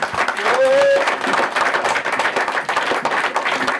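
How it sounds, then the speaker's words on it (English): Audience clapping after an evening talk in Walthamstow, a steady, fairly loud patter of many hands, with a brief tonal squeak near the start and voices mixed faintly into the crowd noise. "So big round of applause for Allan Jones."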